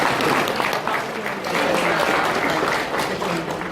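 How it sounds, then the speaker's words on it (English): A convention audience at the TFNation 2018 opening show applauds loudly, dense continuous clapping from a large crowd throughout. "A round of applause for yourselves, ladies and gentlemen."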